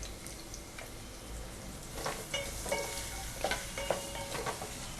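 Garlic, dried red chillies and chopped onion fry over a low flame in a pan while tempering for a Tamil manathakkali keerai poriyal: a quiet, steady sizzle broken by light scraping stir strokes, with no talking.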